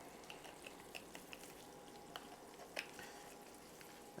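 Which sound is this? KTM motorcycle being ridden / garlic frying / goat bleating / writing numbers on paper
garlic frying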